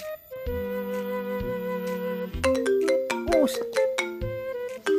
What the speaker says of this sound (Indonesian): Telepon euy.